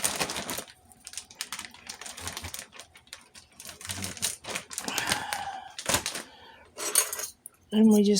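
A utensil stirring hamburger and potato stew in a pot, with irregular clinks and scrapes against the metal, fairly close, plus a few sharper knocks near the end.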